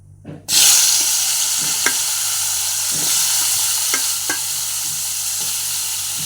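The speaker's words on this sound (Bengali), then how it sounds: "একদিকে কুদরি ভাজা চলছে" Ivy gourd sizzles steadily in a hot pan after a sudden start, with occasional soft clinks of stirring over the constant frying hiss.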